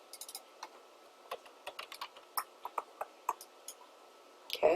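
Keys clatter on a computer keyboard while a search term is typed into trading software, a quiet, close series of irregular clicks in short bursts, ending with a slightly louder clack.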